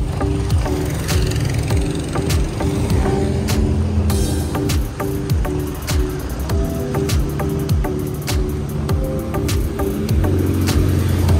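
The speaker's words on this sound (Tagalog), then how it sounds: "Traffic oh." Steady road traffic on a main road in Pilar, Las Piñas, with engines passing close by and a continuous rumbling, whooshing wash of vehicles.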